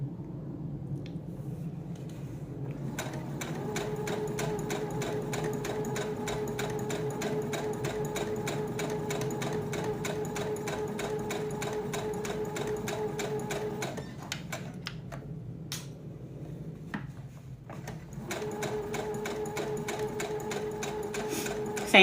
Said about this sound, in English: You could sew to the end and back stitch, and then go back to the top,